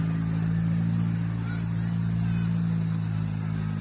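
Off-road trial trucks run at an outdoor show, a steady low engine drone idling and driving nearby, with a faint voice underneath.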